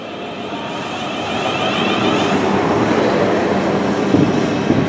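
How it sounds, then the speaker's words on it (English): A Class 444 electric multiple unit departs as empty stock toward carriage sidings. A rising rumble and whine build as it pulls away close by, with faint rail clicks near the end. "departing now is 444045, an empty stock over to Bournemouth carriage sidings"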